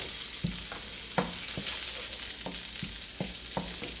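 Curry shrimp stir-fry with carrots and celery being stirred in a hot pan, a constant sizzle broken by a regular series of sharp scrapes and knocks from the spatula, close and alone with no talking.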